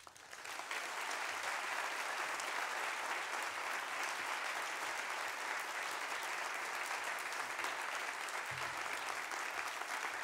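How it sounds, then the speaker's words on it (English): A large audience applauds to welcome Leon Panetta onstage at the BAC Outlook 2013 event, with dense, steady clapping that holds at an even, loud level for about ten seconds without voices over it. "please join me with a nice round of applause and bringing to the stage Mr. Leon Panetta"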